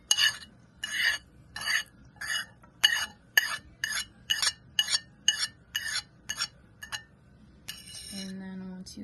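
Potatoes and chopped egg whites for potato salad get mixed in a bowl, with a regular run of about fourteen wet scraping stirs, moderately close, ending in a brief clatter and a short tone.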